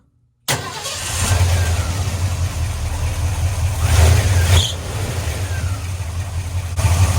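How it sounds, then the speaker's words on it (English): A classic Ford truck engine fitted with a new Holley 2-barrel carburetor starts abruptly and settles into a steady, loud, close idle with a brief swell in revs partway through. "I'm gonna give you a startup video now to show you how well we start up"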